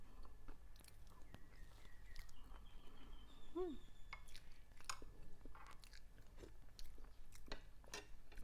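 Boiled duck eggs are chewed up close with soft, wet, faint bites and mashing, coming in irregular bursts against a quiet background.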